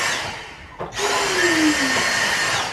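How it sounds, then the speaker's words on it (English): Vacuum cleaner hoovering a carpet hung on a wall indoors: a loud, steady motor whine that dips briefly, then surges back and drones on with a shifting pitch. "hoovering his wall, as you do."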